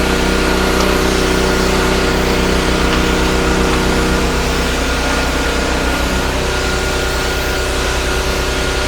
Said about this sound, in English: a petrol vac.